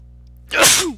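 A single sharp sneeze, close and loud, in an otherwise quiet moment.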